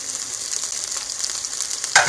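Vegan egg scrambling in a hot pan for a breakfast taco, giving a steady bright sizzle with stirring scrapes throughout, which swells into a louder burst of frying near the end.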